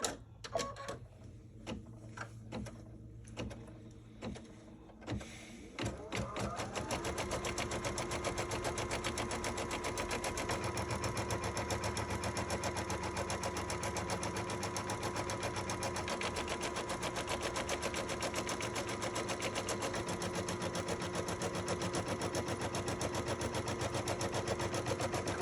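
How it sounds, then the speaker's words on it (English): An embroidery sewing machine stitching a placement line for a quilt block, a few brief mechanical clicks and whirs, then a loud, rapid, steady rattling stitch that runs on nonstop. "The next step will be stitching the placement stitch for where you're supposed to place the fabric."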